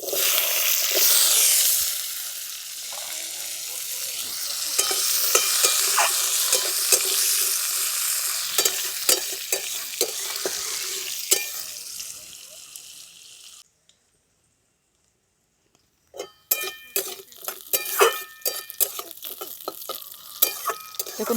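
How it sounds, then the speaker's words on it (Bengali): Cut radish fries in mustard oil with black cumin seeds and dried chilli, loud steady sizzling and scraping stirs close by, then a brief silence before sharper clattering stirs resume. "দেখুন মূলোগুলো একটু ভাজা ভাজা করে নিয়েছি"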